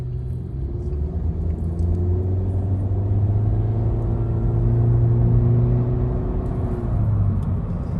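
A 2022 Honda Civic Touring, 11th generation, pulls away with a low, steady engine rumble and tyre hum from inside the cabin, the pitch climbing gently as it gains speed.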